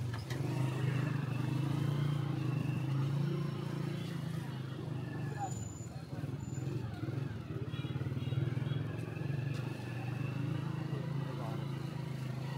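A motorcycle rides through a tight, crowded bazaar in Sialkot, its steady engine drone running close and continuous throughout, with market bustle and voices around it.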